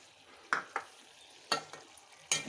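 Tamarind juice goes into a simmering curry as a spoon stirs it: four short, separate scraping and swishing bursts against a low, quiet background hiss, with no voices.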